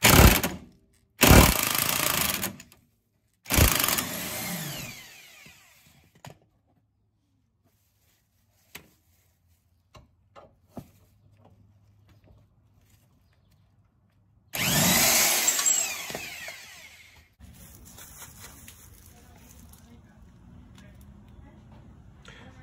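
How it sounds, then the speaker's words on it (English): A 14 mm impact wrench on a swivel head hammers at a Loctite-seized bolt on a 27-year-old Honda Civic's trailing arm, giving several loud, short bursts separated by quiet gaps with faint workshop clatter between them. "I'm gonna take a 14 mil impact on a swivel head"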